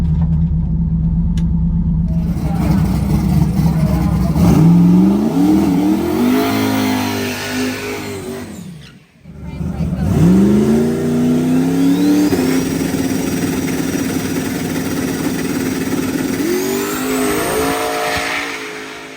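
A drag race car launches down the strip at a hot summer event, the engine revving hard then climbing through loud, close accelerating runs, with a brief cutoff midway before another long pull.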